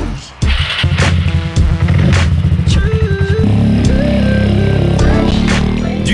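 A small customized scooter engine in Tokyo revs loudly and repeatedly, its buzzing pitch climbing and falling close by, with voices partly audible over the noise.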